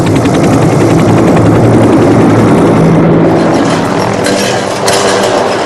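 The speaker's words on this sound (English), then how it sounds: "planes and helicopters drenched the countryside with 42 million litres of the chemical" A helicopter over the Vietnam countryside, its loud, steady rotor and engine roar filling the whole stretch with a dense, unbroken drone and faint rhythmic chopping, heard close and without voices.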